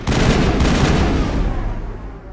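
A loud gunshot blast from the video game Mass Effect, hitting hard at once and rolling into a dense, echoing boom that slowly fades over two seconds.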